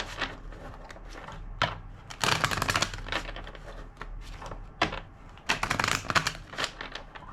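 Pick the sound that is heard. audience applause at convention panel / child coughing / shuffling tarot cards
shuffling tarot cards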